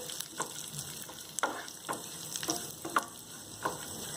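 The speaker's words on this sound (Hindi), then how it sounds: "इन तमाम ड्राई फ्रूट्स को डालने के बाद जस्ट हल्का सा इसे गोल्डन ब्राउन होने तक फ्राई कर लें।" Dry fruits and almonds frying in oil until golden brown for sheer khurma, a steady close sizzle with a few light stirring clicks, no voices.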